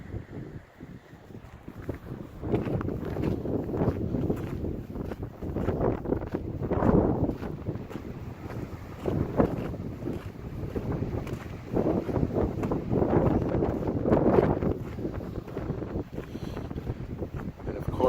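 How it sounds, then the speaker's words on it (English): Strong wind gusts buffet the microphone across an open, exposed stretch of the Garden of the Gods in Colorado in winter, a loud continuous roar that swells and eases throughout with no talking. "Unfortunately, the wind has returned though. I'm in a more open area now, so the wind has come back."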